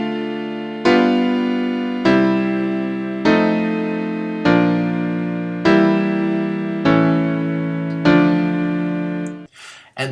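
A secondary dominant seventh chord played repeatedly on a keyboard, about seven times in a steady sequence, each one struck and left to ring before the next begins.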